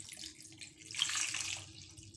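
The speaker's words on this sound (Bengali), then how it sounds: "এখন পরিমাণ মতো পানি দিয়ে" Water pours into a pot holding about two kilograms of ripe tomatoes before boiling, a short, quiet splashing stream that rises in the middle and tapers off, heard close up without talk.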